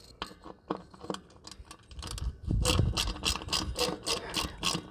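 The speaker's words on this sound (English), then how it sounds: "So now I'm going to take my dip socket." Ratchet with a deep socket clicking on a Toyota 4Runner rear brake drum bolt, sparse clicks at first, then a fast steady run of sharp ratcheting close up.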